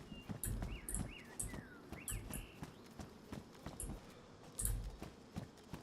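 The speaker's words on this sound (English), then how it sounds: "And not a single dinosaur sound. Just birds." Birds chirp in modded DayZ, bright rising and falling calls repeating through a calm outdoor scene, mixed with intermittent thuds and clopping steps at moderate level.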